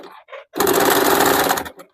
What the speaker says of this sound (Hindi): इस प्रकार से कपड़े को बिना घींचे हुए आप लोग इसे नॉर्मली सिलाई चला लीजिए।